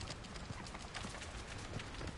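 A horse's hooves clip-clop at a steady trot in the Hogwarts Legacy video game, a faint rhythmic clatter under a low background bed with no talk.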